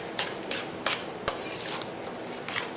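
A spoon scrapes and clinks around a bowl while corn slaw of cabbage, corn, honey and lime juice is mixed. Soft, close, irregular rubbing strokes with occasional sharper taps, no voices.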